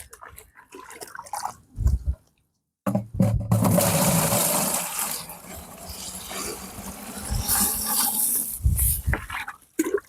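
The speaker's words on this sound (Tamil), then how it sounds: "இதில் ஒரு 3/4 டப்பா அளவுக்கு தண்ணியை வந்து ஃபில் பண்ணிக்கலாம்" Water rushes into a container that is being filled about three-quarters full for a homemade water pump. The loud, steady splashing pour runs for several seconds after a few brief knocks and a short silence, then eases off with drips.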